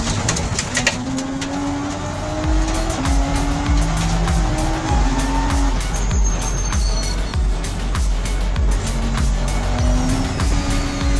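Race cars in a crowded racing video game field roar past with stepped rising and falling engine tones and tire squeal as one car spins out, all loud and continuous with a dense, busy mix.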